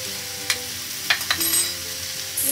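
Vegetables frying in a pan sizzle softly and steadily, with a few sharp clinks and a brief louder burst near the end, close by and with no voices.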